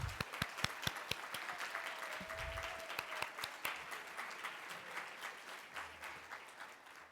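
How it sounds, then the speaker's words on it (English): An audience at a climate policy summit plenary gives the event sponsors a round of applause, with a few crisp, close claps standing out over a broad, sustained wash of clapping that gradually thins. "please stand up and let's give you all a big round of applause"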